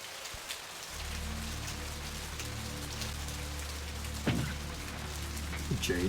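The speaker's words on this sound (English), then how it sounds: "Is it raining?" Rain falling in Vampire: The Masquerade – Bloodlines, a steady dense patter on surfaces with a low ambient hum underneath and a couple of brief louder knocks.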